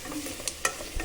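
Tomatoes and paneer in a frying pan are stirred with a few short scraping clacks over a soft, low sizzle.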